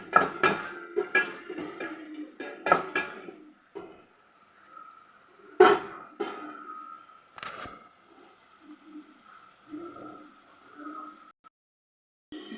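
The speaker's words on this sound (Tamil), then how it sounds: "முட்டையை உடைச்சி அதில் ஊற்றிக்கிடுவோம்." An egg is cracked and poured into a pan of ginger in a home kitchen. A run of sharp taps and clinks comes first, then scattered soft clatter and a faint sizzling hiss, close and quiet.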